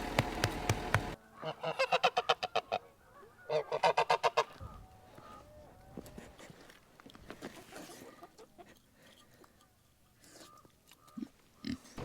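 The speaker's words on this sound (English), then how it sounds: "There's even like a goose here" Several loud goose honks in quick bursts, mixed with other farmyard fowl calls and scattered clucks, fairly close.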